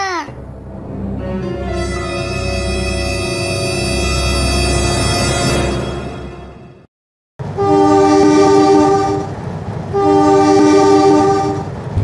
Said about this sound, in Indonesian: Itu kereta api kan udah mau datang itu.